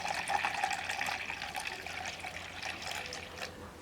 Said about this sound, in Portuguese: Agora a gente vai primeiro adicionar uma água, a água limpa, logicamente.